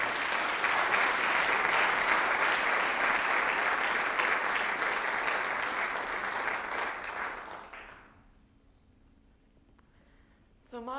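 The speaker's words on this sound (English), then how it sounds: "please give her a big round of applause because she just turned 16 yesterday" An audience at a TEDx event on sustainable futures gives a warm round of applause for a teenage student speaker. The clapping holds full and steady for about eight seconds, then thins out and fades into near silence.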